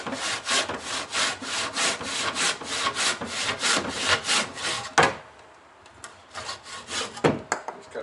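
Handsaw cutting timber in a shed for boat work, a quick rhythmic back-and-forth rasp of even strokes, close and clear, pausing briefly before resuming with a few slower strokes.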